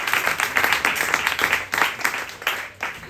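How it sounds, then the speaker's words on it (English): An audience at a climate and nature investment fireside chat claps steadily, a dense, fairly close round of applause that keeps going for a few seconds with no voices over it. "Can I please have another round of applause for both of these guys?"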